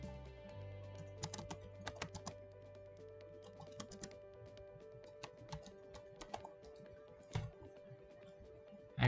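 Text is typed on a computer keyboard while making a video outro in editing software: irregular bursts of close, crisp key clicks with short pauses between, quiet and without talk.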